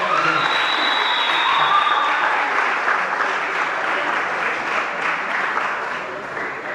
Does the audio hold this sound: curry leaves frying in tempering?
no